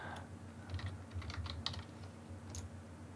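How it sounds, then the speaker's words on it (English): A computer keyboard tapped in quick, light keystrokes, faint and close in a quiet room, with no voices. "I'm going to type in"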